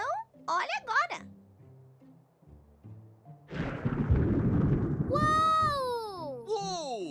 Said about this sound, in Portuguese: Dessa vez eu ouvi o raio primeiro e só depois eu escutei o trovão.